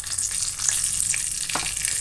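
Peanuts, mustard seeds and cumin sizzle and crackle in hot oil in a pan, a close, steady frying hiss with a few sharp pops.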